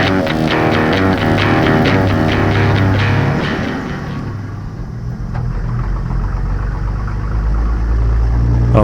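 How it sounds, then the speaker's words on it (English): A 1951 M37 truck engine lugs under load on a test drive, a loud low rumbling drone with harmonic growl that shifts pitch and sags steadily, with no voices over it. "lugging the engine a little bit there"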